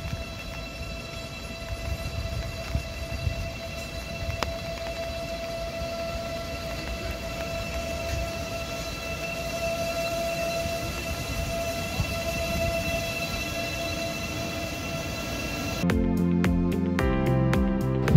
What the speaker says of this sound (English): High-speed IC train passes through flood water.